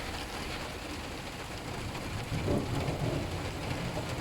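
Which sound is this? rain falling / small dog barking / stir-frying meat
rain falling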